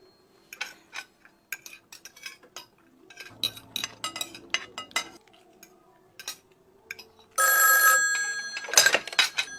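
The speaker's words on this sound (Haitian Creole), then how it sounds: "Ah, téléphone." Telephone ringing in a home where dishes and cutlery clink intermittently, the ring arriving as a loud bright trill near the end.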